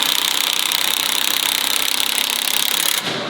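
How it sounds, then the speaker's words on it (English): A torque gun drives a screw into a roof rafter on a clay Rosemary-tiled roof during a solar mounting install, giving a loud, steady, continuous mechanical whir for about three seconds before stopping abruptly. "the screw in like that using my torque gun"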